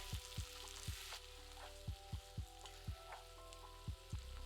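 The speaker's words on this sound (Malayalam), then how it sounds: "അതിലേക്ക് ഒരു മീഡിയം തക്കാളി അരിഞ്ഞത് കൂടി ഇട്ട് നന്നായിട്ട് വഴറ്റുക" Chopped onion and medium tomato sauté in a pan for a Kerala okra curry, giving a steady sizzle and fry hiss with repeated soft clicks and scrapes from stirring, close and moderately loud, with no talking.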